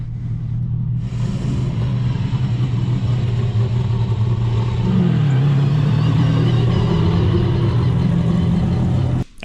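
A Spec-D race car engine at Mission Raceway starts up and holds a loud, steady rumbling idle close by, with a brief rise in revs midway before it cuts off at the end.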